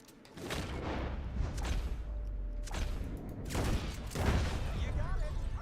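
Gunfire erupts in Red Dead Redemption 2 as loud, booming volleys of shots crack in rapid bursts, layered and echoing, filling the scene with sustained heavy shooting.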